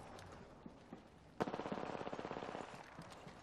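Video game gunfire: a sharp shot followed by a rapid machine-gun burst of about fifteen evenly spaced rounds, fairly close and punchy, then a few scattered softer shots.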